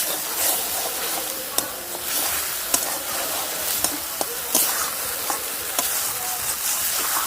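Peanuts sizzling and frying in a pan as water is poured in, a steady crackling hiss broken by occasional sharp clinks and stirring scrapes, close and moderately loud with no voices.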